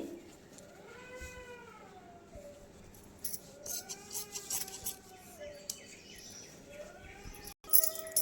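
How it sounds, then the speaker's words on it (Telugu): Scissors make a run of short snips as they cut through blouse fabric. The sound is quiet and close, and faint high chirping tones carry on in the background. "కటింగ్ చేసుకుందామండి"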